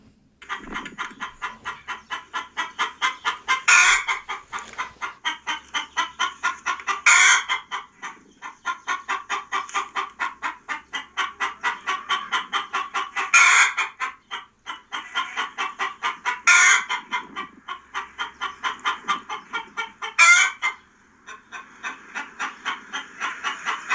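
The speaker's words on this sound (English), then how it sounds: "Hens are quieter, but they can cluck extremely loudly when they lay eggs." Hens cluck loudly and continuously in rapid, repeated bursts, with a few sharper, louder squawks breaking through the rhythm.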